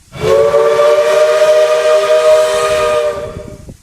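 An American steam whistle from the Roblox game RO-Scale Sandbox blows a single loud, chord-like blast with a soft hiss at the start, holds steady for about three seconds, then cuts off abruptly.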